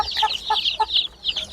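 Broiler chicks peep and chirp in quick, high-pitched bursts, several close calls overlapping in a short, busy run.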